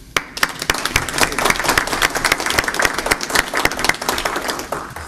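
Loud, sustained applause from a large crowd at a Board of Estimate and Taxation meeting welcoming the school superintendent, dense overlapping claps filling the whole stretch without letting up.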